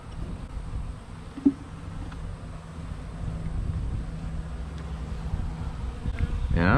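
Honey bees buzz around an active hive in a steady low drone, with a few bees passing close to the microphone and faint wind noise underneath.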